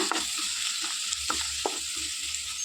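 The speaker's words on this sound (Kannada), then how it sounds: "ಎಲ್ಲ ಸಾಮಗ್ರಿಗಳನ್ನು ಹಾಕಿ ಫ್ರೈ ಮಾಡುವ ಈಗ" Green chilli masala ingredients sizzle and fry in a pan for a homestyle mackerel green masala, a steady close hiss with a few soft stirring knocks and no voices.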